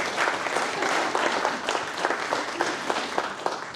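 Steady applause from the audience at an arts council annual meeting, a dense patter of many hands clapping for about four seconds, holding an even level throughout with no one speaking over it.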